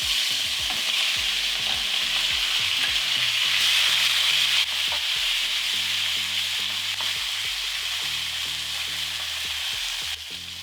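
Pork hitting canola oil in a very hot wok-style pan, a loud continuous sizzle and fry with intermittent scraping and stirring of the meat.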